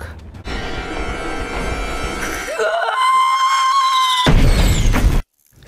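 A woman's high, sustained scream rises and holds for a couple of seconds, cut off abruptly by a loud burst of noise.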